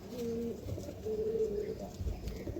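Soft, low pigeon coos repeat a couple of times at close range, quiet and murmuring against a faint background rumble.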